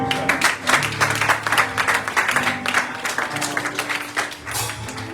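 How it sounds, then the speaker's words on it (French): A church congregation claps together during a sermon, a loud, lively burst of applause that pulses rhythmically for about five seconds, with a low instrumental hum underneath. "Est-ce qu'on peut applaudir Jésus?"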